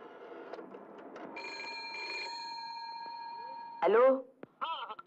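A telephone in a scene from an Arabic film gives a sustained ringing tone under voices, followed by a sharp louder chirp and more talking.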